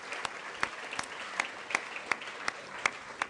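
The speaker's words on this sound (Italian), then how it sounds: "gli chiedo un grande applauso" A quiet, steady, rhythmic clapping for a university director general at a ceremony, evenly spaced sharp claps repeating about every third of a second, sounding somewhat distant over a faint crowd hush.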